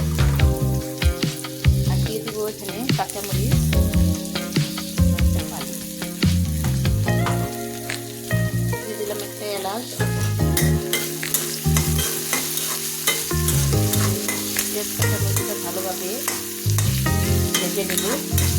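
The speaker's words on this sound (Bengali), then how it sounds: "পেঁয়াজটা আমার একটু আধা ভাজা হয়েছে" Thickly cut onion pieces with green chillies fry in hot oil for meat, a loud, steady sizzle crackling throughout as a spatula stirs and scrapes the pan repeatedly.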